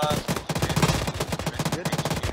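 Machine gun firing in the video game Arma 3, rapid sustained bursts of evenly spaced loud shots close by, with no talk over them.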